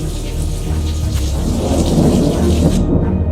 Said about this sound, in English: But thunderstorms, that's what we're here for.